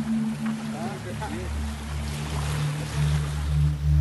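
Floodwater rushing through a village in Lumajang, Indonesia, not a river, pours as a steady loud broadband roar close by, with a low motor hum running underneath and voices talking over it.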